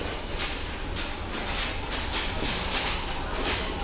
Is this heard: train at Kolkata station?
yes